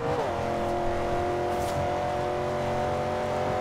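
A 2015 Chevrolet Camaro Z/28 launches hard in the racing game Forza Horizon 2, its engine roaring loud and steady with a rising rev at the start and the back end kicking out.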